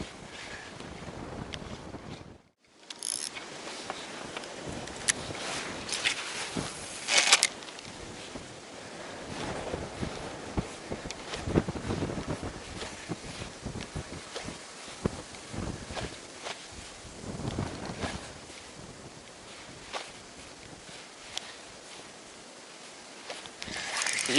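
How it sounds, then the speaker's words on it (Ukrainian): Strong wind of about 12 m/s buffeting the microphone outdoors on the water while fishing from an anchored boat, with continuous rushing and gusty bursts, briefly dropping out near the start. "Вітер піднявся."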